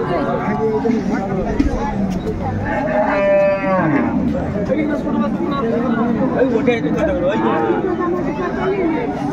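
A cow moos loudly at close range amid the busy chatter and haggling of a crowded cattle market in Bangladesh where cows and calves are sold.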